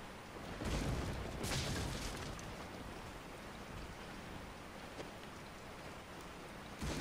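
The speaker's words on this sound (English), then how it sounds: "It's raining right now." Steady rain pours down in the video game Resident Evil 4, a dense, even hiss of falling water with a couple of brief louder bursts, and no talking.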